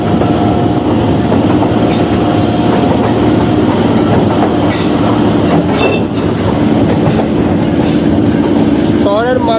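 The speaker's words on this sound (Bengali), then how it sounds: "শহরের মাঝখান দিয়ে এই ট্রেন যাতায়াত করছে।" A Kolkata Circular Rail local train rumbles loudly and continuously, with clattering wheels and occasional squeals from the rails throughout.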